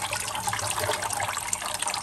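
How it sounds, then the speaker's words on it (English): Water sprays steadily out of the jet holes of a dishwasher spray arm being flushed during cleaning, a continuous close hiss and splash with no pauses. "run a little bit of water in here and we can make sure that it's coming out these holes"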